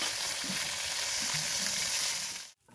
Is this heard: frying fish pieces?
yes